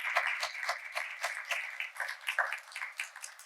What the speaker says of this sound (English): Give them a quick round of applause because they did a lot of work here.